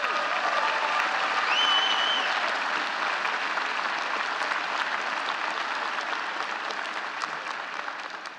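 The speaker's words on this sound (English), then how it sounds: "I think that deserves a round of applause." A university audience breaks into a sustained round of applause, a dense, even wash of many clapping hands heard from a distance, holding steady before slowly tapering off, with a faint whistle near the start.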